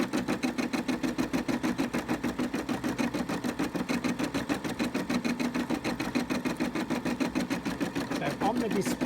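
Brother M280D Disney sewing and embroidery machine stitching at a steady fast rhythm, a continuous mechanical whir with rapid even needle beats, close and loud throughout.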